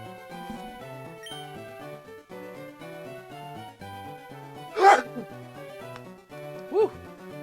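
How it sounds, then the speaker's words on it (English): A single abrupt sneeze bursts out over soft background music, followed a couple of seconds later by a smaller vocal catch. "That was a full lung sneeze"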